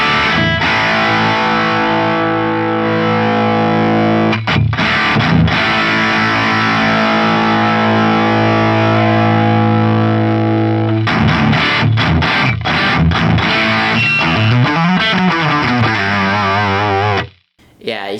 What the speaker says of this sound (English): If you max out the tone knob on it, you get kind of a ring modulator type of thing going on.